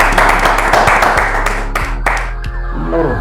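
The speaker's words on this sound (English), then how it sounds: "Good hand clap up in here." Hand clapping on a podcast set, a burst of sharp claps fairly close and loud, thinning out toward the end over low background hum.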